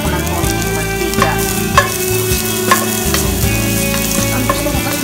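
Loud, steady sizzling of garlic frying in hot oil in a skillet, with occasional pops and stirring scrapes, no voices.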